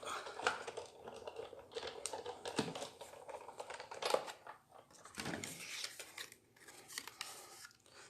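A hand-cranked die-cutting machine pressing a gear-shaped die between two standard plexi plates, giving irregular close crunches, creaks and snaps with small clicks in between, fairly quiet and with no one speaking.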